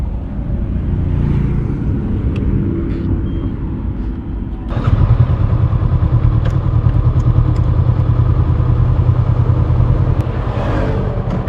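Honda CB500X motorcycle ridden through Pattaya streets late at night: a steady, close engine drone that swells as the revs rise partway through, with road and traffic noise around it.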